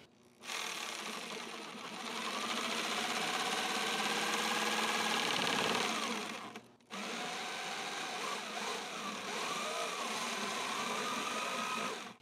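Skil jigsaw cutting through a workpiece, a steady high buzzing blade stroke running loud and close for several seconds, briefly stopping, then resuming the cut.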